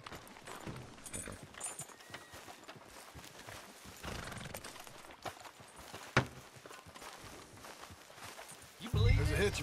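Horse hooves clip-clop at a steady walking pace in the video game Red Dead Redemption 2 while people talk over them, ending with a louder burst of low rumble.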